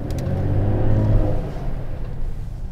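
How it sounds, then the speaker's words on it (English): A Mercedes-AMG GLE 53 Coupe driving, heard as a deep, steady engine rumble with low tonal drone, fairly loud and continuous, easing slightly toward the end. "Today we are driving the Mercedes AMG GLE 53 Coupe."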